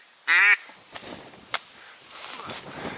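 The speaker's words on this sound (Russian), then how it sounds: "Утки!" A duck quacks loudly once, close and clear, during an autumn duck hunt outdoors, followed by faint rustling and a couple of sharp clicks.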